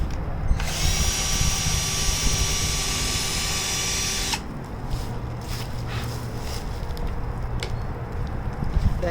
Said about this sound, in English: Use the drill and drill on one of the four corners.